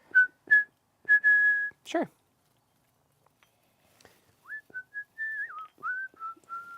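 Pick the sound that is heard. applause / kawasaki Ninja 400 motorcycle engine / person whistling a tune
person whistling a tune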